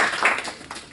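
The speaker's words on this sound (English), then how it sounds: "why don't we give a big round of applause to our sponsors." A short burst of applause from an audience at a startup speaker event, brief and fairly loud, fading quickly.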